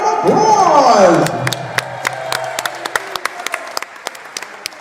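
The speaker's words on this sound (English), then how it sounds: "Round of applause!" A crowd at a wrestling-themed show claps and cheers loudly with an announcer's voice over it, then the roar drops to a thinner scattering of individual claps.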